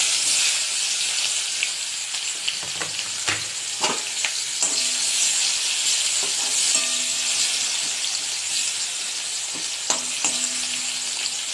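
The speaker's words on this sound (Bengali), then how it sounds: "পেঁয়াজটা লাল লাল হয়ে ভাজা হতে থাকুক" Chopped onions frying in hot oil with dry red chilli, bay leaf and nigella seeds for a Bengali rohu fish with taro curry, a steady close sizzle and hiss with occasional stirring clinks, no voices.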